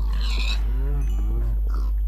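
Farm animals in a video game, a pig and chickens: short animal calls ring out over a low steady hum, fairly close and clear, with no talking.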